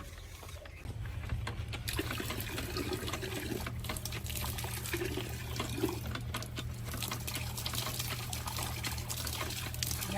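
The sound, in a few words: water pump pouring out water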